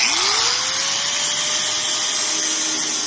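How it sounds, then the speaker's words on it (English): An angle grinder cutting off a lock on a gate, with a loud, steady high-pitched whine as the disc winds up to speed and keeps grinding through the metal, close and continuous. "I'm using a grinder, grind it off."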